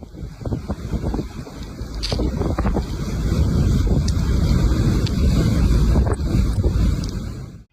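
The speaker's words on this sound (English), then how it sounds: "the powerful blizzard that hit the Sierra Nevada in spring 2024 looked like up close, with wind gusts reaching 31 meters per second" Powerful spring blizzard wind in the Sierra Nevada with gusts near 31 meters per second, a loud continuous roaring rush with buffeting microphone noise, building and staying strong throughout.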